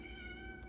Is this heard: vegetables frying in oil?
no